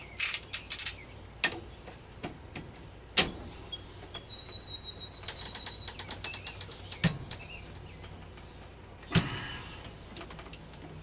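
Ratchet wrench tightening a part on an AR rifle build, heard as scattered close mechanical clicks and short ratcheting runs with quiet gaps and a few sharp knocks, no talking.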